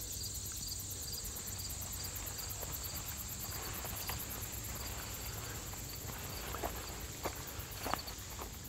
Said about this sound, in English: Nothing but the sound of the insects.